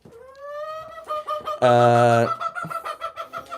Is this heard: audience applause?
no